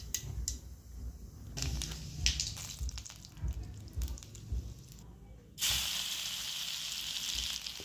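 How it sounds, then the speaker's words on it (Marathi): Mustard seeds crackle and sputter in hot oil in a wok, a steady fizzing sizzle broken by sharp pops, rising to a brighter, louder hiss near the end. "मोहरी चांगली तडतडून द्यायची"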